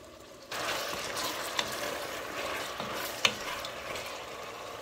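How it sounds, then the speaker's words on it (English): Bacon and figs cook in a pan, giving a steady close sizzle that starts abruptly and carries on, with a few faint scrapes and clicks from stirring and no talk. "we're about 12 minutes in, stirring occasionally, and we're starting to get some browning"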